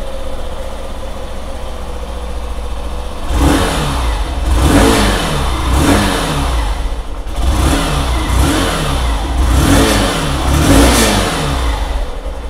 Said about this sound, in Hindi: तभी गाइस जस्ट आपने इस बाइक का एग्जॉस्ट साउंड को सुना